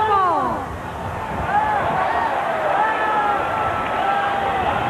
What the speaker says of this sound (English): a pretty good crowd greeting and pounding on that Bulls motorcade as they make their way up here